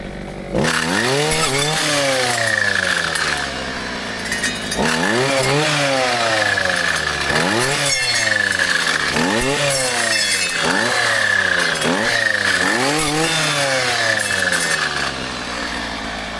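A brushcutter's engine cuts down birch saplings in a pine stand, revving and dropping again and again in repeated bursts, loud and close, with no one talking.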